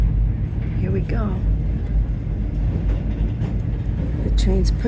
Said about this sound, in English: The train's pushing. The engine's pushing us.